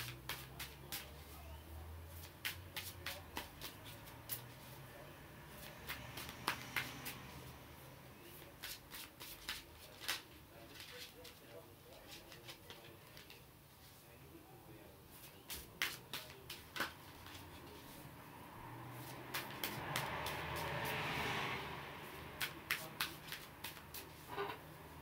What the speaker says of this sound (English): So now I'm gonna shuffle, guys